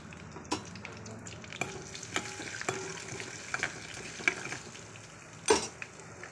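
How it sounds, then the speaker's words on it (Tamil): Dried red chillies and ginger frying in a pan, a low sizzle broken by repeated clinks and scrapes of a spoon stirring against the metal, close and fairly quiet. "அதிலே வரமிளகாய் போட்டுருவோம் இஞ்சி போட்டுடலாம்"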